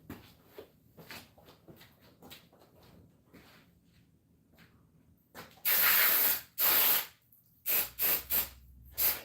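Aerosol parts cleaner is sprayed onto Oldsmobile 403 V8 engine parts during reassembly, several loud hissing bursts of one or two seconds each following quieter handling clicks and shuffling of parts.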